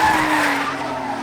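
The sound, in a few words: drift car tires skidding at a drift competition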